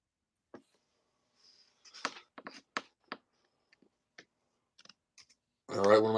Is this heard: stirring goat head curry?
no